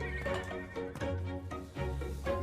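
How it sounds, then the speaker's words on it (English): Horses neigh and whinny at close range with clip-clopping hooves, a loud run of shrill calls rising and falling in repeated bursts with no talk. "Look at the horses."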